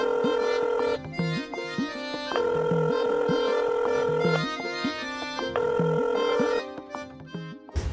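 A phone rings in a scene from a Bengali serial drama, repeating a clear electronic ring pattern in regular bursts with short gaps, loud and close, and no voices over it.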